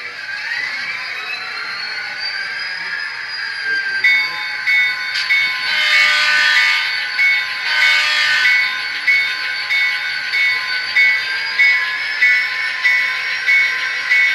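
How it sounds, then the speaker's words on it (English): Athearn Genesis GP38-2 and GP40-2 model locomotives run with sound decoders, giving a loud diesel engine drone with a whistling, hissing edge and a rising then steady pitch. "And now Jason will run those locomotives for us."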